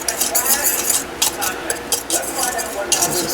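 Whisk stirring flour, baking powder and salt for cornmeal buttermilk pancake batter in a bowl, with rapid scraping and clinking against the sides.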